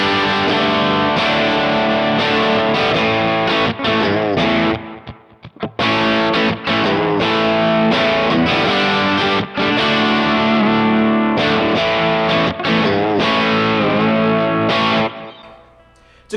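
Electric guitar played through a Kemper profiler using the PD100 1.3 Marshall-style amp profile with the boost off, heavily distorted rhythm chords ringing loud and continuous, with a few brief pauses and no talking.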